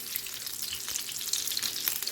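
Zucchini meat patties sizzle steadily in a hot pan, a continuous crackling hiss with small popping spatters throughout, close and moderately loud.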